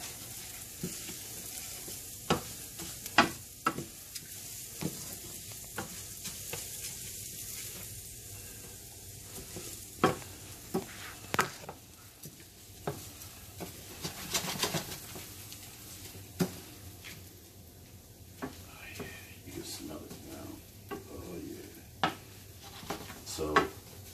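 Arborio rice toasting for shrimp and lobster risotto crackles softly in a pan, with irregular light clinks and scrapes of stirring against the pan over a low continuous sizzle.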